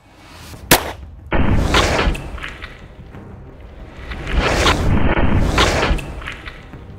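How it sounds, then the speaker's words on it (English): A .22 caliber round is fired at a bulletproof mask: one sharp, loud gunshot crack near the start, followed by rustling, movement and a few softer thumps and swishes. "Let's shoot a 22, let's see what happens. 22 caliber, shooting at the left cheek."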